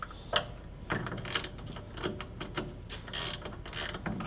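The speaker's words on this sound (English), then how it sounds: "So I'm just going to slide my wrench there, and then we're just going to tighten this up." A wrench tightening a 14 mm bolt on a Ski-Doo snowmobile shock, with close ratcheting clicks in short repeated bursts separated by brief pauses, no speech.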